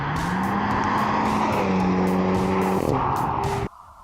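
An Audi TT Quattro's engine and exhaust roaring loud and sustained, pitch climbing through the revs and shifting with gear changes, then cutting off abruptly near the end.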